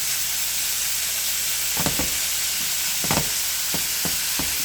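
Ground beef for a Mexican-style casserole sizzles steadily in a pan, with a constant frying hiss broken by several scraping stirs of a utensil.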